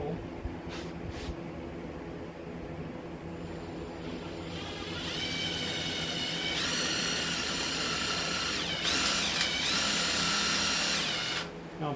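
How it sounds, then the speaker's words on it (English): A Ryobi power drill whirs steadily as it bores a hole for a trailer light, ramping up in pitch and loudness partway through with brief pauses near the end. "Then we'll get our trusty Ryobi drill here."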